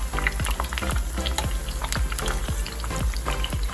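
Jalebi frying crisp in hot oil, a dense bubbling hiss with rapid popping and crackling that keeps up steadily throughout, close and fairly loud, with no talking.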